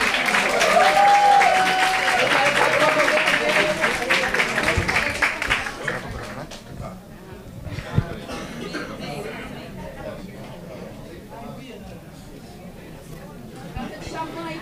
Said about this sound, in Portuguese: Uma salva de palmas para o Victor.